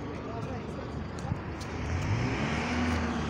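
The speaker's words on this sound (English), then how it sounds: "And now the driver's revving with it." A bus engine on route U3 revs under load, a low, rising rumble that grows louder and steadier toward the end, heard from inside the vehicle with people talking over it.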